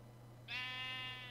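A Minecraft sheep lets out one wavering bleat, close and distinct, over a faint steady hum and with nothing else heard.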